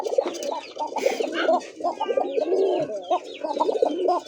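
Pigeons coo close by in repeated throaty bursts, several birds overlapping in a steady rhythmic burble with brief pauses between phrases.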